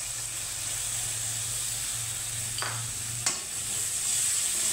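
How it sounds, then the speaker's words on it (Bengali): Whipped yogurt poured over a sizzling spice paste in a pan on low flame for a cauliflower curry, giving a steady soft frying hiss with a brief splash and stir partway through, no talking. "তো এই পর্যায়ে আমি দিয়ে দিব এখানে ফেটানো দই"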